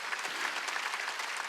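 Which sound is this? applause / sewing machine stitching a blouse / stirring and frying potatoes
applause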